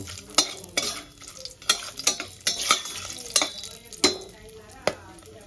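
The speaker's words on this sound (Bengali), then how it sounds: "আর আমি এখানে সব খাড়া মশলা নিয়ে নিয়েছি, ফোড়নে দিয়ে দেবো। একটু ভেজে নেব।" Whole spices sizzle in hot oil for tempering, with repeated sharp scraping strokes of a spoon against the pan every half second or so over a steady crackle, close and fairly loud.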